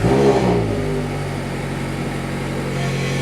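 A Ford Mustang engine revs to around 4,000 RPM, a loud, deep mechanical roar that peaks at the start and then holds a steady, slightly lower hum.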